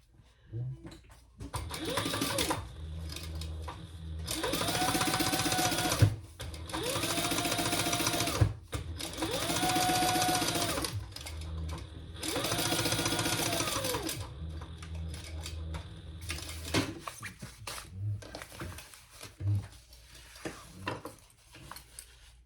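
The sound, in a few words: sewing machine stitching bonded nylon bag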